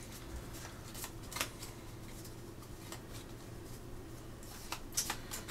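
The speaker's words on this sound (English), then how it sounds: "This one has to get shuffled." Deck of Gloomhaven: Jaws of the Lion board game cards being shuffled by hand, a soft papery riffling with scattered crisp snaps, faint and close, with no voices.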